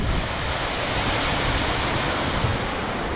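Continuous roaring rush of a waterfall along the Great Ocean Road, Australia, dense and steady with a deep rumble, loud and close with no voices.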